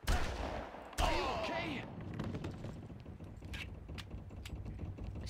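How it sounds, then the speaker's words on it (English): Gunfire in the Far Cry video game: one sharp shot at the start and a second loud shot a second later, followed by ringing, mechanical clatter and game ambience, with speech mixed in. "Shot him in the hand and then I shot him in the neck"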